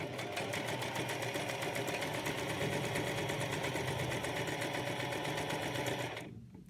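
A sewing machine stitches a cloth face mask with a steady rapid mechanical chatter, close and continuous for about six seconds, before it stops abruptly.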